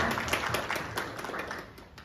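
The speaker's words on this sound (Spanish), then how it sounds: "Let's give them a hand." Faint, patchy clapping from a church audience at a talk on holiness, its uneven slaps blending into a soft wash of room noise with no voice over it.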